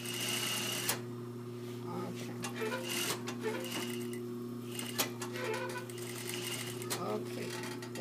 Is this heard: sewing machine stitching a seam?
yes